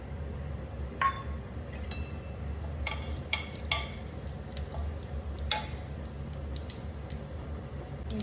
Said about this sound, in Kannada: ಈಗ ಸಾಸಿವೆ ಸಿಡಿತಾ ಇದೆ.